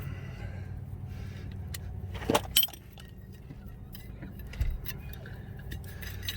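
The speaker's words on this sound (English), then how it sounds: "tighten these two bolts back up" Metallic clinks and a short ratchet-like rattle from tightening the front brake caliper bolts on a 2005–2010 Mk5 VW Jetta, a few brief close taps over a steady low hum.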